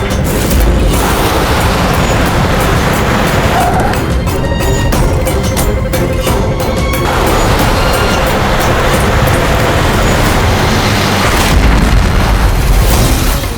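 A loud, dense blast with crashing and crackling debris, followed by sustained noisy rumble and scattered impacts throughout, no speech.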